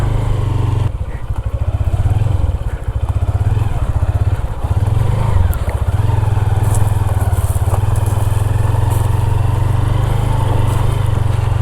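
A motorcycle engine runs continuously during a bike rescue at a camping spot, a close, loud, rough throbbing drone with rattling clatter that stays steady throughout.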